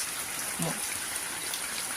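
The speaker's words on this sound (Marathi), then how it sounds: "अशा पद्धतीने पावसाच्या सरी बरसत आहेत" Rain showers pour down as a steady, even hiss of falling water in a village in Sindhudurg, Konkan, with a faint low vocal sound briefly heard underneath.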